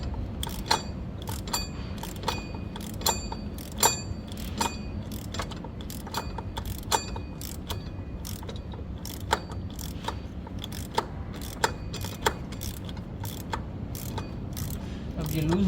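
Rear brake caliper bolt on a SYM JET180i scooter being loosened with a ratchet wrench, giving a steady series of sharp, close clicking ticks over a low background hum.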